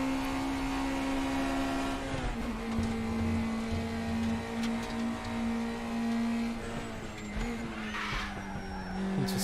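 An NSU race car in the RaceRoom Racing Experience sim drones steadily at high revs, its engine pitch dipping and rising through gear changes, with intermittent tire squeal in a continuous loud stream and no speech.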